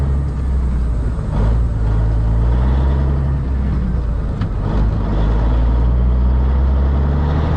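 A Kenworth K100E Aerodyne cabover truck pulls away on a snowy night, its diesel engine a loud, steady low rumble heard from the cab, with a few faint clicks and knocks over the drone.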